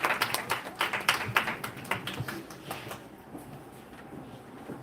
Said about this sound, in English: please join me in welcoming Dr. Monica Tilani with a round of applause